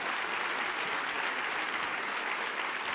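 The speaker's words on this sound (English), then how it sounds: "Give me a round of applause for that idea." Audience at a lecture on higher education claps in a steady, even round of applause, moderately loud and sustained from start to finish, with no talking over it.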